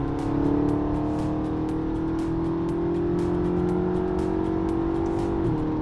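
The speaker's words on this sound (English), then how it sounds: "So I'm already in 7th gear, so I'm gonna give it a downshift." McLaren 650S engine revving loud and close while running through gear shifts, a sustained roar with pitch rising and falling as gears change, after a transmission service.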